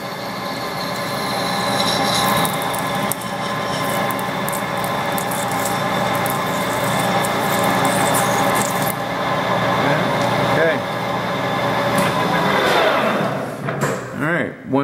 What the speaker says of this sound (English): I'm using a high speed tool here. for aluminum, just because I like that